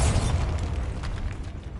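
A Bombarda spell explosion in the Hogwarts Legacy video game, a deep booming blast with rumbling debris that fades over under two seconds.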